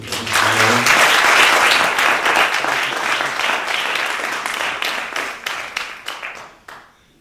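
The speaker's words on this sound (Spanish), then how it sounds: "Primero que nada, un aplauso para ellos." An audience at a forum bursts into loud, dense applause that swells quickly, holds for a few seconds, then thins into scattered claps and fades out.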